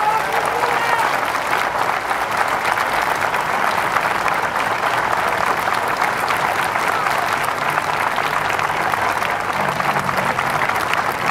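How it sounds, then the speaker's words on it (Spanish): Loud, sustained audience applause at a political gathering in Argentina, dense and even, continuing for about eleven seconds with a crowd murmuring beneath it. "un fuerte aplauso por ella"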